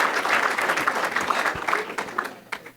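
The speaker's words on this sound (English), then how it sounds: "Give him a round of applause." An audience at a Chicago philanthropy event gives a round of applause, dense clapping that holds steady and then tapers off near the end of the brief burst.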